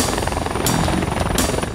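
A military helicopter from a tactical air wing flies close and loud, its rotor chop pulsing steadily through a short burst with no voices.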